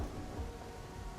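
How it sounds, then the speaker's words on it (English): Rain in the game Goblintown, a dense, steady hiss of falling water with a low rumbling undertone, heard briefly and fairly faintly with no voices. "It's also raining."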